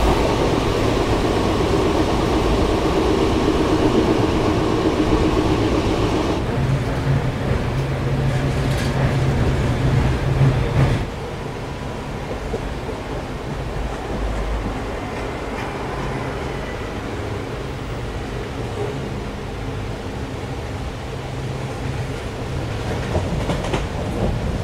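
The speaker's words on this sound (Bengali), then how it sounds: "আর এখন ট্রেন কিন্তু বেশ ভালো পিক আপে টানছে" A special train with old ICF coaches runs at speed, its loud rolling rumble and rattling wheels steady from inside, dropping to a quieter hum with faint clicking partway through.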